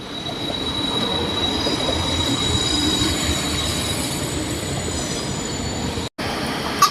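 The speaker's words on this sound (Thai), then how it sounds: "มีรถดีเซลรางเดวูด้วยนะครับ ไม่รู้ว่าลากไปไหนเหมือนกันนะครับ" A train passes close by, towing a Daewoo diesel railcar, with a loud, steady rumble of wheels and a high metallic squeal running throughout.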